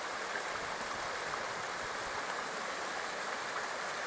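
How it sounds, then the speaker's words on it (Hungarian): A small mountain stream flows beside a road climbing through the mountains, giving a steady, even rushing hiss of water that never breaks, fairly close and unaccompanied by voices. "Itt folyik mellettünk a kis patak"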